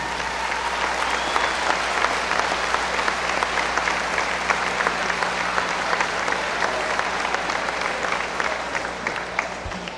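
A large crowd at a 2002 high school district wrestling finals bursts into sustained, dense applause, the clapping steady and loud throughout with a faint murmur beneath.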